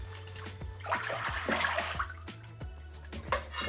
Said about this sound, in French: Et on fait 4 ou 5 rinçages jusqu'à ce que notre eau soit bien claire.